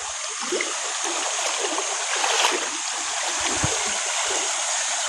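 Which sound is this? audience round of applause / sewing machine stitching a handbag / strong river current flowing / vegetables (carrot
strong river current flowing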